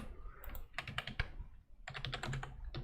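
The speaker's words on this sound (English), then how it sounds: "We just enjoy the sound of the keyboard." Rapid clattering keystrokes on a computer keyboard during a Rust live coding session, in close, quick bursts with a short pause in between and no talking.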